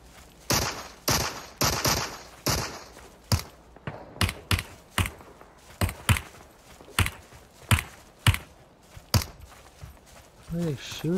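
Repeated gunshot bursts from the video game Super People, loud sharp reports in an irregular rhythm, some rapid automatic volleys and some single shots, with a voice speaking between them.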